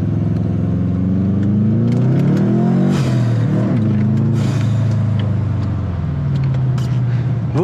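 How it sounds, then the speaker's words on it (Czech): A Subaru Impreza rally car on a snowy race track, its engine droning loud and close with rising and falling revs as it accelerates through warm-up laps, a constant heavy rumble without pause. "Dáme si teďka nějaké zahřívací kola."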